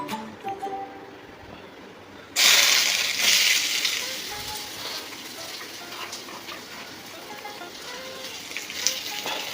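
Onion frying in a pan on a home stove, a steady loud sizzle starting suddenly after a quieter opening and continuing with faint stirring scrapes, no talk.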